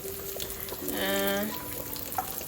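Pork fries in plenty of oil for spaghetti with a steady, close sizzle that swells for a moment and then settles back to a constant crackle.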